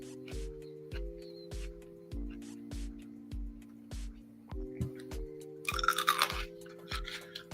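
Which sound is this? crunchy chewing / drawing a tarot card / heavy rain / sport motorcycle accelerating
crunchy chewing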